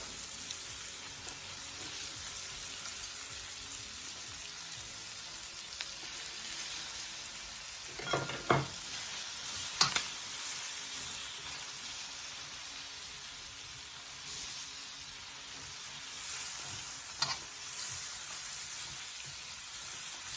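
Garlic, onions and scallions sizzle steadily in a pan for jerk shrimp rasta pasta, a continuous frying hiss broken by a few louder clinks and scrapes of stirring, with no talk.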